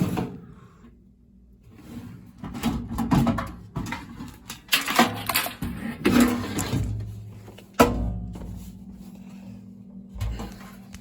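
ECM blower motor assembly from a Carrier AC unit sliding out of its housing: irregular scraping, knocking and metallic clunks over about eleven seconds, with a sharp bang near the end, close and moderately loud.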